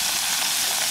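Fish-battered onion rings hitting hot oil at a riverside bass cookout, a loud, close, continuous sizzle and hiss throughout the brief moment, with no talking.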